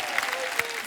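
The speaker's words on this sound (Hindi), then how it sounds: "यार एक बार ताली बजा दो इसके लिए यार" Studio audience clapping on a Kapil Sharma comedy show stage, a brief dense burst of applause from a crowd, fairly close and steady with a couple of sharper claps standing out.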